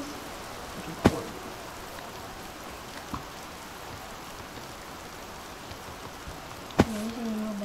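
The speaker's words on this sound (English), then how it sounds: "Sadly for me, it's raining" Rain falls in the Minecraft video game as a steady soft hiss, broken by a couple of sharp isolated clicks.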